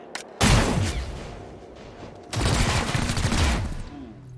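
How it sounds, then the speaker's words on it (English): Heavy video-game gunfire erupts during a breach in XCOM Chimera Squad, with two dense, loud bursts of overlapping shots and booms separated by a brief lull. "And breach fire."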